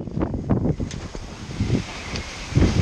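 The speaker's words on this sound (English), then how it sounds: "it's a bit windy today" Gusty wind buffets a microphone outdoors on a blustery day, with low rumbling bursts that swell and fade in an uneven rhythm, loud and close, with no speech.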